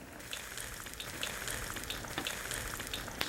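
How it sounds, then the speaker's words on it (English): Curd (paneer) deep frying in hot ghee makes a steady, dense sizzle throughout, with small crackling pops scattered on top and no voices. "when you're deep frying curd"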